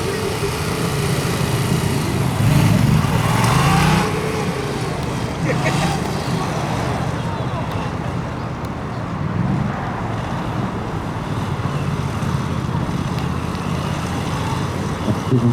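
A Yamaha MT-07 motorcycle at a Ukrainian motorsport competition, its engine droning loudly and steadily throughout with a rise in revs early on, under a continuous mixed background.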